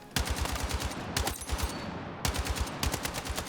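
Rapid automatic gunfire in Battlefield 6 rattles in three bursts of fast, evenly spaced shots, loud and up close with brief pauses between.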